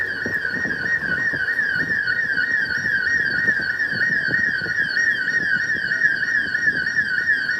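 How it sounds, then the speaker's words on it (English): An alarm sounds steadily in the background of an upscale gated community, a continuous warbling electronic tone repeating without pause, moderately loud, with faint street ambience beneath and no talking. "An alarm in the background, sorry for the noise."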